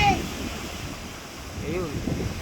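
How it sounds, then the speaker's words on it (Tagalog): Big sea waves surging near a large boat stuck on rocks by the shore, a rough rushing surf blended with heavy wind buffeting the microphone, with someone talking over it. "Ayan, oh, nakikita po ninyo, lalaki ng alon talaga, oh."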